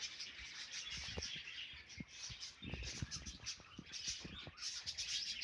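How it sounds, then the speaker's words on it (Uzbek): Caged budgerigars chirp and twitter in a busy, overlapping chatter, fairly close, with scattered sharp calls and faint rustling and no talking. "Mana hozir valnislik qushlar bor Katayda."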